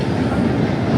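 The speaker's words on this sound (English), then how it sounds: "So right now I go jump on the train." A Toronto subway train rumbles steadily and loudly, a dense low roar of wheels and rails heard from close by, with no talk.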